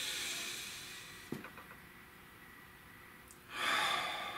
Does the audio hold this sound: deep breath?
yes